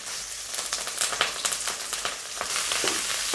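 Onion, curry leaves and garlic sauté in hot oil, a close, lively sizzle broken by bursts of stirring and crackling that settles into a steady hiss near the end.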